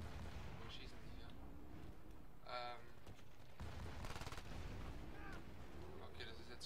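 MP7 submachine gun firing in the online shooter Battlefield Play4Free, with rapid bursts of gunfire over a continuous noisy battle backdrop and a voice talking throughout.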